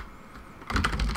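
Fast keystrokes on a computer keyboard as a password is entered on a Raspberry Pi 2 running Ubuntu, a brief close patter of clicks after a quiet moment.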